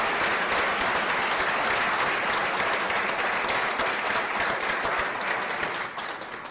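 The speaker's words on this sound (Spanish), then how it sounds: "Un aplauso para doña Ivonne Asa" Steady applause from an audience at a cultural platform launch event in honor of an arts patron, a continuous wash of clapping that holds throughout and tapers slightly at the end.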